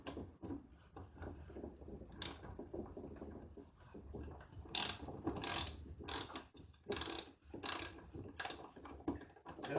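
A ratchet wrench turning a 3/8 socket during a washing machine repair, giving repeated close mechanical clicking bursts with short pauses between strokes, no talk.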